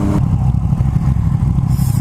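A Yamaha MT-09 motorcycle fitted with an Akrapovic carbon full exhaust system idles close by with a steady, low, throbbing rumble.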